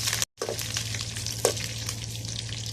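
Fennel, cinnamon, curry leaves and dried chillies fry in sesame oil for Tamil mutton chukka, giving a steady close crackling sizzle with occasional pops and a brief stir.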